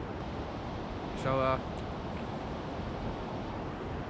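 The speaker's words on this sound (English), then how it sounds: "It's pretty windy today" Steady wind rushes and rumbles outdoors across the mic the whole time, with a single short spoken word partway through.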